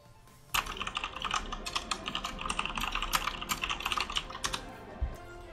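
Furious, rapid typing on a computer keyboard, with dense, clattering keystrokes close up and nonstop for about five seconds.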